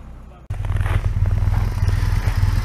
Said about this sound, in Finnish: Nyt täällä käyhän jo tyhjäkäynti